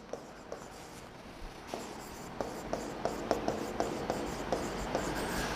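Marker or chalk writing on a classroom board during a grammar lesson on tenses: a steady sequence of short scratchy strokes with regular taps, close and moderately quiet, with no talk.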